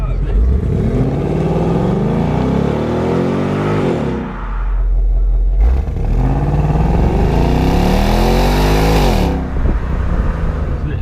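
A 2018 Ford Mustang GT's 5-litre V8 revs hard twice, each time rising to a loud roaring peak and then dropping back to a deep rumbling idle, close and filling the scene.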